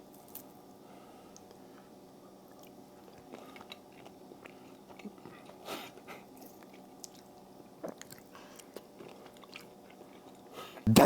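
Close, quiet chewing of a grilled shrimp taco with smoked paprika and chipotle, soft wet squishes and small crunches repeating irregularly, with a louder bite at the very end.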